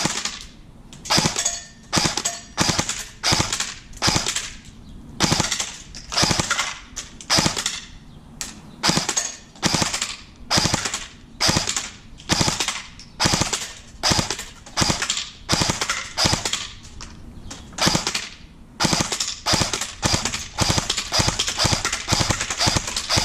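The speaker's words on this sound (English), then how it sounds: "Yo, it sounds like a machine gun." An airsoft M4 rifle fires in rapid repeated bursts, sharp close clacking shots in quick strings separated by brief pauses, loud and alone.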